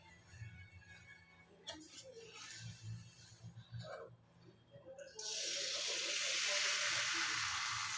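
Appam batter cooks in an oiled pan, a loud, steady sizzling hiss that starts partway through after a stretch of talking and quieter kitchen sounds.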